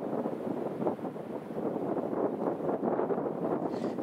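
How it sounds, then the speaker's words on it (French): Wind blows across a mountain ledge at the col du Valsberg, a soft, muffled rush buffeting the microphone in gentle, uneven gusts. "Alors il y a un peu de vent,"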